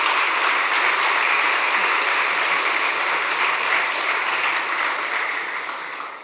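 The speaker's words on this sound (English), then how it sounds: "Can we please get another round of applause" An audience at a devotional stage event gives a round of applause, dense and continuous from start to finish before tapering off slightly at the end, with no talking.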